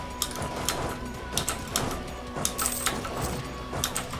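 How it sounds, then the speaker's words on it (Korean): Keyboard typing during a session of the strategy game Europa Universalis IV: quick, irregular clicks and clacks close to the microphone, layered over steady tonal game sounds. "좀 키보드 소리가 조금 시끄러운 점"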